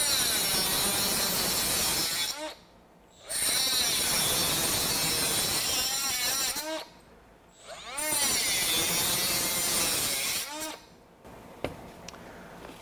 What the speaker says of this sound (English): let's go to the Milwaukee, again forward, and we'll make 3 cuts here